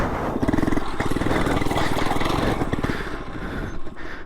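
A cheap Amazon-bought motorcycle's small engine revs hard and loud at close range as it launches, holding a rough, buzzing roar for several seconds before easing off.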